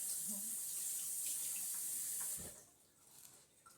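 A coconut held under a running kitchen tap to wet and clean its shell; steady water rush for about two and a half seconds, then cuts off, leaving faint handling noises.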